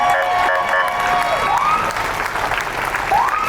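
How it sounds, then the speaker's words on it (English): A crowd at a Little League parade meet-and-greet claps and cheers loudly, a continuous wash of applause with scattered shouts and whistles throughout. "one more big round of applause for Team Great Lakes"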